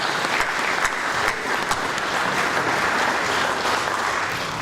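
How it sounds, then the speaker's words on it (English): Audience at a community sports awards evening in Otara breaks into a sustained round of dense, steady applause, loud and fairly close. "Let's give him a round of applause."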